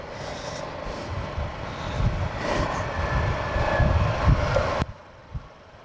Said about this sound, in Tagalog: Yung motor pala ni Sir Ruiz no mga kamaster ay Honda Click 160.